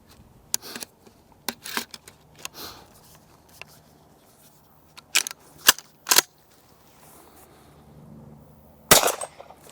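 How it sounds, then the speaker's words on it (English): Several sharp shots from a pump-action shotgun firing 3-inch Express Supreme Game cartridges with 16 grams of number 6 shot, with pauses between the reports and a loud final blast. "Next on test we've got the Express 3-inch. They're these Supreme Game, and these have got 16 grams of number 6 shot."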